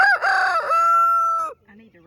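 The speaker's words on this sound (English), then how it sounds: "He's been a really good rooster." A rooster kept in a coop converted from an old shed crows one long, loud, close crow, followed by a few soft low clucks.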